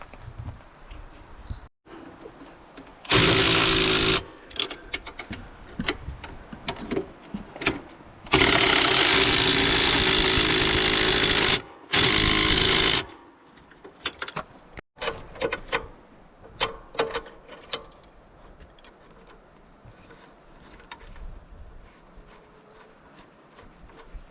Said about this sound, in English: now he's going to tighten the two of them